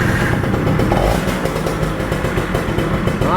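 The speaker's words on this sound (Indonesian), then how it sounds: "Kita cek soundin untuk suara mesinnya" A two-stroke motorcycle engine runs loud and close, a raspy buzzing drone with slight revving fluctuations and mechanical clatter throughout, no talk.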